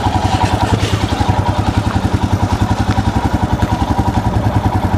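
An adventure motorcycle creeps along off-road at very slow speed on clutch control, its engine thumping in a steady low, even pulse, close and fairly loud.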